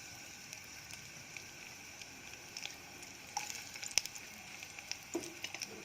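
Chopped shallot softens in a pan with a little oil, giving a faint, steady sizzle with a few soft pops and light scrapes growing busier toward the end.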